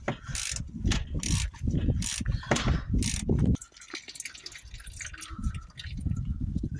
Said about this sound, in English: Just using a 13mm socket here to open the oil sump.